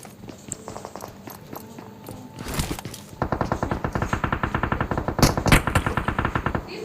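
Gunfire in the mobile battle royale game PUBG Mobile: scattered shots and footsteps at first, then a sustained rapid automatic burst of evenly spaced shots running to the end, fairly loud.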